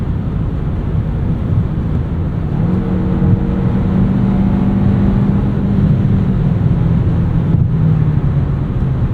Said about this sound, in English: There's a little bit of wind noise at speed